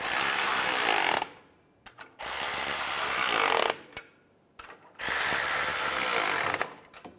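A powered ratchet tightens the catalytic converter bolts on a 2006–2011 Cadillac DTS, running in three long, loud whirring bursts with short pauses and a few quick blips between them, and no talking.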